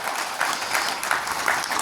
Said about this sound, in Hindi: अपनी जीवंतता के लिए एक बार आप लोग ताली बजाइए